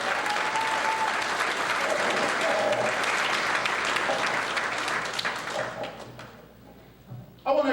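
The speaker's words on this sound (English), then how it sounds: "all of those people who have supported them along the way to get to this point also deserves a round of" An audience at a graduation ceremony gives loud, dense applause that carries on steadily before tapering off, with faint crowd murmur beneath and a short burst of voices at the very end.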